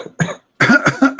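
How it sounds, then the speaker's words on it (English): A man coughs close to the microphone, a short burst followed by three or four harsh, rapid coughs with brief gaps between them. "Yeah, cough."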